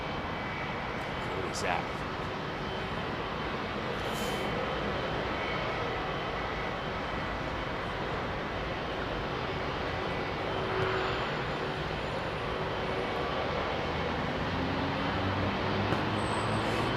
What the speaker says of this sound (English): there's an aircraft coming out of the hangar. Look, he's coming out.